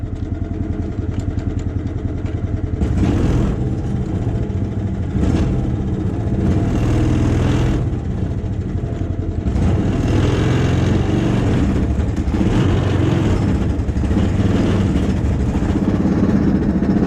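A home-built Baja buggy on its first drive runs with a loud, steady engine drone that surges and eases as it moves, close and continuous throughout with no voices.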